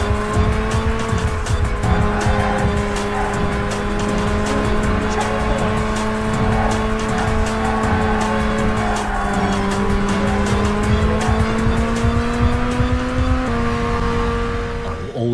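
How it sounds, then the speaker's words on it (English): Race cars in the original Burnout video game roar at full throttle, their engines droning and shifting pitch continuously, with tire squeal and skids over loud, dense racing noise. "even though there are only 4 cars on the track which you have to fight against, all the rest of the cars will get in our way"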